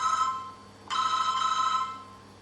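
A telephone rings in a historic house during a guided tour: two electronic ringing bursts, the first fading, then a sharp restart that holds steadily for over a second before trailing off, clear and alone.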